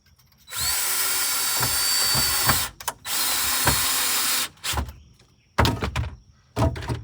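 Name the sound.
drilling a hole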